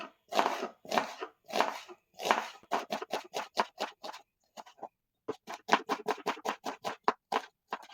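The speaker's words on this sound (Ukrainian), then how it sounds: "Я думаю, тут доречно буде використати червону цибулю. Так, напівкільцями ріжу." A knife slices a red onion into half rings on a board, a run of crisp, close cuts, first slower and heavier, then quick rhythmic strokes, a short pause and another fast series, clean and without voices.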